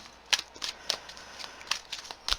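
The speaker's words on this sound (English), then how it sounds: "I want to put a nice shuffle on the cards again just to make sure." Tarot cards being shuffled give several quick, soft riffling bursts in an irregular rhythm, close and quiet against a near-silent background.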